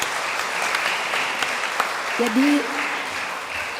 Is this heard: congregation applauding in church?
yes